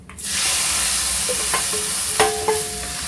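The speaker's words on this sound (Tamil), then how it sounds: "லாஸ்ட்டாக கருவேப்பிலை போடுறோம். இப்போது இது தாளிச்சாச்சு." Curry leaves hit hot tempering oil for brinjal kosthu, giving a steady close sizzle and hiss with a few sharper crackles and pops near the end.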